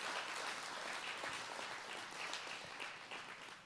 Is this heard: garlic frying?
no